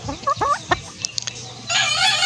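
A breeder hen clucks and calls in a few quick, close bursts, followed by a steady hiss of background noise.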